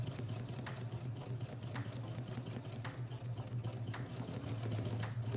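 A domestic sewing machine stitches forward, backs up in reverse and runs forward again, making a quiet, steady, rapid mechanical chatter with a low motor hum throughout and no voices.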